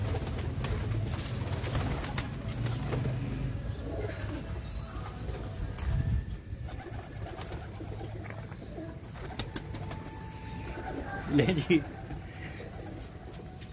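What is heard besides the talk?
pigeons cooing on a loft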